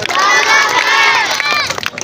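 A crowd of children at a street performer's show shouts loudly in unison at a Punjabi roadside act, a dense, sustained burst of young voices close by.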